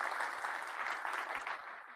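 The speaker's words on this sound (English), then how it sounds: "Round of applause, please." A conference audience at a React event claps in a sustained round of applause, dense and even throughout, from a crowd at moderate distance.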